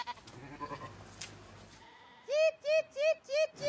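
Several sheep grazing between urban apartment blocks bleat in quick succession, four loud close wavering calls at the end, after a stretch of speech.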